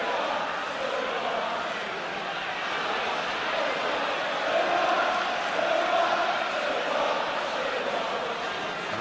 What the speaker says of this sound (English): An Arsenal crowd reminding us of the score.